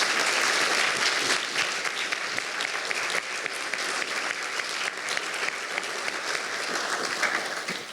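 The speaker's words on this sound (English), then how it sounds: "Round of applause for our speakers." Loud, sustained applause from a large audience thanks the speakers at an evening event on health inequalities, a thick wash of clapping holding steady for several seconds before easing slightly.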